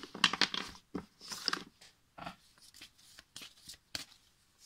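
An oracle card deck is handled and shuffled up close, with crisp riffling bursts and papery slaps coming in uneven clusters separated by short pauses.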